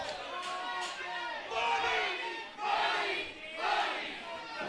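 Wrestling crowd in Boca Raton roaring and cheering in loud swells that rise and fall, with shouting voices mixed into the noise.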